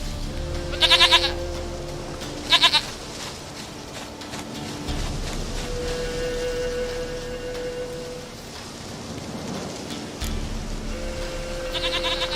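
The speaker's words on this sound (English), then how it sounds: "Goat of mine, dearest, sweetest goat." A goat bleats in The Witcher 3: Wild Hunt, giving two short, loud bursts near the start over a steady rain-like ambient bed and background game music.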